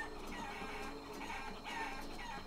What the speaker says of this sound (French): Beaucoup de poules ici, hein.